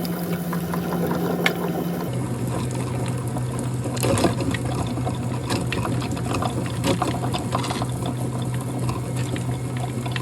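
Water is poured into a mix beside a steadily whirring, grinding machine, with continuous liquid splashing blended into the mechanical drone.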